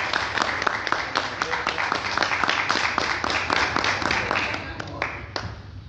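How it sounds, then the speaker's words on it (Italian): A room of people claps steadily at an outdoor association event for an urban garden nursery project, with sustained, fairly close applause that fades out near the end. "Un applauso."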